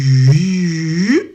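Electronic musical tones from an interactive primary-school music teaching resource: a sustained, clear pitched note that bends upward near the end, loud and alone with no talking.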